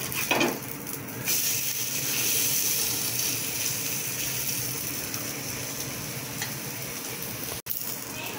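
A cabbage and egg omelette sizzles steadily in a hot pan, a continuous close hiss with faint crackles and a few soft clinks, no voices heard.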